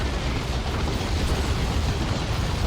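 A broad, rumbling grenade explosion in the strategy game Dawn of War 2 lingers as a continuous low roar throughout, with no talk over it.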